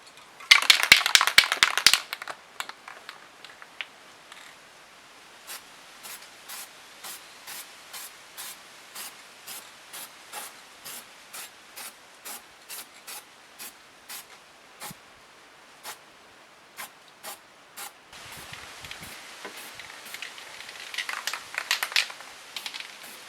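Short bursts of spray paint coating a welded cab mount repair on a Tacoma with Eastwood Extreme Chassis Black: a loud opening hiss, then a steady run of brief, evenly spaced puffs and a final longer spray.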